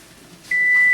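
A steady electronic tone switches on partway through and holds loud and unbroken to the end, a kitchen timer going off while meat is being pressure canned.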